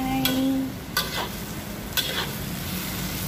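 Bitter gourd frying in a pan while being stirred, a steady close sizzle with a few sharp scraping strokes of the spatula spaced about a second apart.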